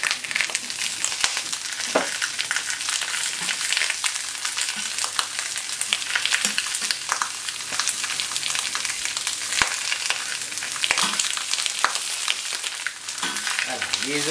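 Eggplant frying in olive oil in a pan, a steady close sizzle with crackles and occasional stirring clinks running throughout.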